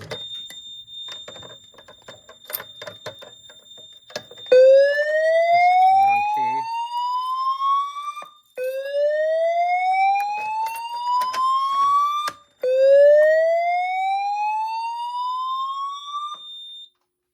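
A Notifier NFS2-640 fire alarm system sounds its alarm tone: loud repeated rising whoop sweeps over a steady high beep, three long whoops back to back after a brief lead-in of clicks.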